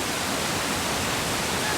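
Hogenakkal Falls on the Kaveri River in Dharmapuri district roars as a steady, dense wash of falling water, loud and unbroken throughout with no voices.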